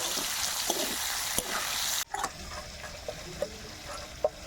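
Kuche eel pieces frying in oil in a home kitchen, a dense steady sizzle that drops off sharply midway as fish is lifted out, then continues quieter with scattered small clicks and spatters.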